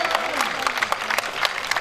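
An outdoor crowd claps steadily at a kabaddi prize distribution ceremony, sustained loud applause with a voice over it.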